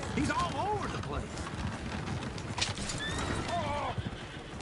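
Horses in the video game Red Dead Redemption 2 sound with steady clip-clop hooves and repeated neighs and whinnies, close and loud, while people talk over them.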